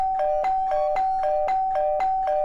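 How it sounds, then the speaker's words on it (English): A doorbell rings over and over in a quick, even electronic pattern, a dozen or so bright chimes in steady succession, clear and close with nothing else heard. "the bell started going off"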